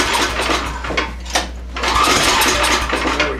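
A Snapper snowblower's small engine being cranked after sitting on its nose, on partial choke: loud rough sputtering and mechanical rattle with a brief lull, then catching and running unevenly, close up.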